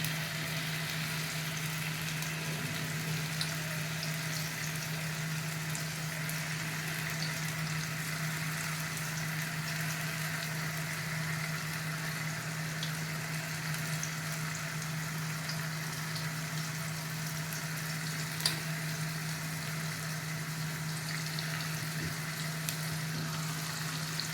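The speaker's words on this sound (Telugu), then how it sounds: "కొంచెం నెయ్యి పెట్టుకున్నాను. దాంట్లో ఈ గుమ్మడికాయ పేస్ట్ని కొంచెం పచ్చివాసన పోయేదాకా వేపిస్తాను." Pumpkin paste frying in ghee in a pan, a steady soft sizzle with a low constant hum underneath, faint and unbroken throughout with no talking.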